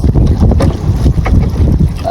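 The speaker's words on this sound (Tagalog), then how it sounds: "Lakas ng hangin." Strong wind on the water while fishing after Typhoon Uwan roars loudly and continuously against the microphone, with faint voices underneath.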